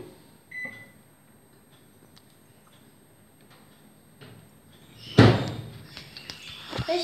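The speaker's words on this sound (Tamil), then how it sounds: "இப்போ நம்ம ஓவனில் 3 மினிட்ஸ் வைக்கலாம்." An IFB microwave oven runs with a quiet, steady hum while baking cupcake batter, then a loud clunk of the door or handle sounds near the end, followed by a short beep.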